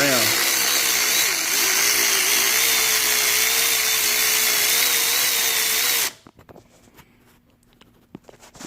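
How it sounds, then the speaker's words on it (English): An electric ratchet removes bolts from an Infiniti QX56 during a timing job, giving a loud, steady motor whine that runs for about six seconds and then cuts off, followed by quiet clinks. "get my electric ratchet"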